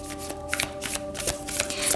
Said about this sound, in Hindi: शफल करेंगे ऑरेकल कार्ड्स को पहले